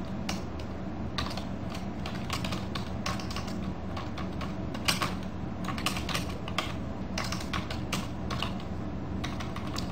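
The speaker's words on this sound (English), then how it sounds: "type in the answer here" Steady typing on a computer keyboard, a continuous run of light clicking keystrokes at close range, irregular in rhythm and heard alone without any talking.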